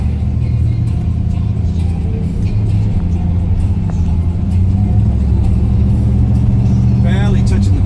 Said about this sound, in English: here we go for a drive in my 1973 Ford Maverick